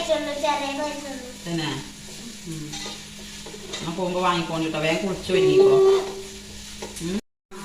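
Onions sautéing in a pan while making kabsa rice: a steady, soft sizzle with occasional stirring scrapes, running under a voice that speaks throughout, with a brief silence near the end.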